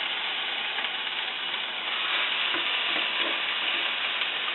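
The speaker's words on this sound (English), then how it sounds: "you're going to put your ribs down because you want to sear them" Pork ribs sear in hot olive oil in a pan, giving a loud, steady, close sizzle that holds evenly throughout with no voices.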